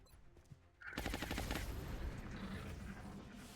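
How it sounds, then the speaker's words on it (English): An explosion in the Long War XCOM game bursts in sharply after a quiet lead-in, followed by a crackling rapid-fire burst and a sustained, rumbling decay, fairly loud with no talking. "I'm not sure the civilian there liked that explosion."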